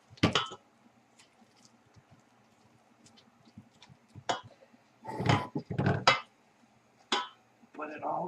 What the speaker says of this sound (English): So I'm just going to kind of stir it around